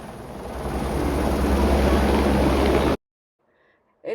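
A helicopter carrying pilgrims toward a hill temple gives off a loud steady broadband roar that holds for a few seconds and then stops abruptly, leaving near silence before a brief burst of noise.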